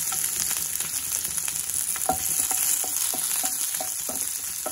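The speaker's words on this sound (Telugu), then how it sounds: "ఇప్పుడు ఇందులో ఆనియన్స్ వేద్దాం." Onions fry in hot oil with a continuous, loud, close sizzle, dotted with small crackles and pops throughout and no voices.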